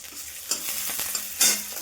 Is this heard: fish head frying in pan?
yes